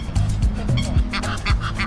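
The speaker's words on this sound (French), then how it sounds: "Regardez déjà, il y a des gros canards" Several loud, close duck quacks from large ducks in Brussels in quick succession, each a short nasal burst, with a low background murmur throughout.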